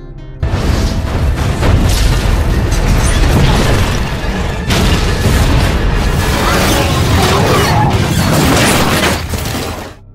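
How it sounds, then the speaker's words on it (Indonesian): A massive explosion in a film destroys an entire building after a gas leak, a loud continuous rumbling roar with crashing, shattering debris lasting several seconds. "ledakan besar pun terjadi yang menghancurkan seluruh gedung tersebut"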